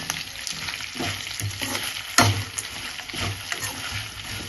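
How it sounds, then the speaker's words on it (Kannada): Ingredients for chitranna, a South Indian lemon rice dish, fry in a pan over a medium flame with a steady, moderate sizzle, broken up by scraping stirs and a sharp clink of the spoon. "ಈಗ ಇದಕ್ಕೆ ಸ್ವಲ್ಪ ಫ್ರೈ ಮಾಡಬೇಕು. ಮೀಡಿಯಮ್ ಉರಿಲೇ ಇದನ್ನೆಲ್ಲ ಮಾಡಬೇಕು."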